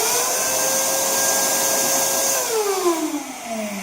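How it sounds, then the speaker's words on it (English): A shop dust collector vacuum runs steadily on a Harbor Freight sandblast cabinet, a loud continuous whine with a pitch that drops and shifts near the end as airflow changes. "If I pull the gloves back and I turn on the dust collection"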